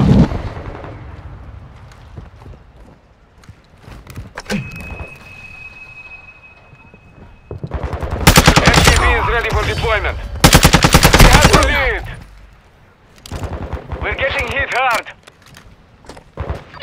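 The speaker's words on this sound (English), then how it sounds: "I'm taking fire." Video game combat gunfire rattles close and loud in long automatic bursts with scattered single shots, mixed with intermittent voices and other game noises.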